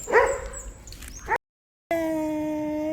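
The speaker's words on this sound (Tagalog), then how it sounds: "Bakit? May aso." A dog barks and whimpers nearby in a couple of short bursts, followed by a pause and then a steady tonal hum.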